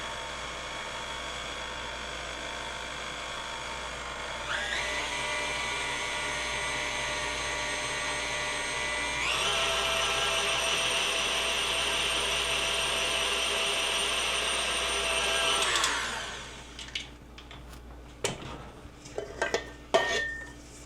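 Electric stand mixer beating almond buttercream frosting, a steady whirring motor that steps up in speed twice, running loud and continuous before winding down into clinks and scrapes against the bowl.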